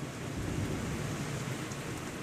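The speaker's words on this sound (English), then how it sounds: "heavy rains began" Heavy rain pours down in a dense, steady roar that holds unbroken throughout, with no other sound standing out.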